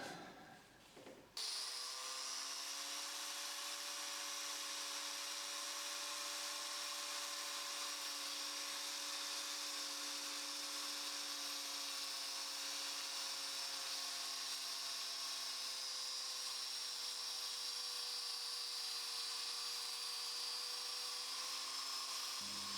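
A steady, high-pitched whine of an angle grinder with a MAXVAC vacuum dust shroud cutting continuously after a brief start-up, with a constant vacuum rush underneath, loud and close throughout.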